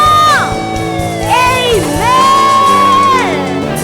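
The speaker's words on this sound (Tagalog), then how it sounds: "Ang lahat ay sumigaw na!" A church congregation shouting together during a worship service, a loud sustained crowd roar with rising and falling whoops and cries filling the space.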